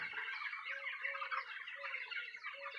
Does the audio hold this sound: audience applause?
no